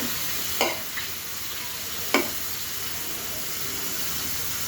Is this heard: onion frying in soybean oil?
yes